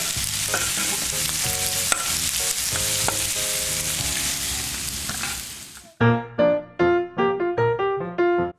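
Potatoes are mixed in a pan with steady sizzling and frequent scraping of a utensil. Then the frying stops, and several bright, ringing knocks and clatters follow, close and loud.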